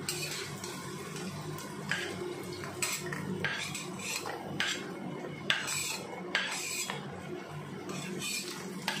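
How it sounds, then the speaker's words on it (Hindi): Shallow-fried yam pieces are lifted from a mustard-oil kadhai onto a plate, a string of close metallic scrapes and clinks of utensil against pan and dish, irregular and steady, with no one speaking. "मैंने सैलो फ्राई कर लिया अभी हम एक प्लेट में निकाल लेंगे"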